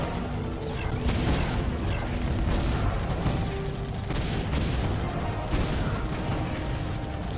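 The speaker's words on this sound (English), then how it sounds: "both those cannons can just absolutely destroy everything" Cannon towers in the tower-defense game Defense Grid firing repeatedly, a steady run of heavy booming thumps every second or so over a busy background of combat noise.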